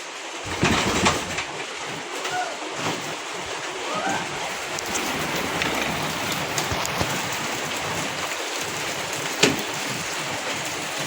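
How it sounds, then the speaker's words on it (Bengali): Steady rain falls outside a home during a flood, a constant broadband hiss of drops on surfaces with a few louder splashes, no voices. "বাইরে বৃষ্টি তো"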